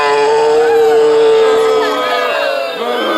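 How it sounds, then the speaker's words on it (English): A loud outdoor crowd at a Groundhog Day event in Hope, Indiana, cheers and whoops, with sustained hollering voices rising and falling over a few seconds. "Oh, listen to that crowd."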